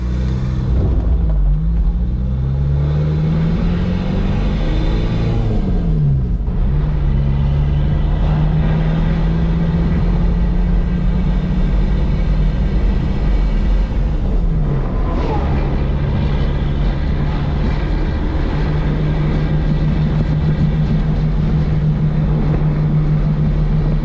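A TDI pickup truck drives with a steady, loud engine rumble and drone, gusty wind noise buffeting over it throughout, the engine note rising and falling as it shifts.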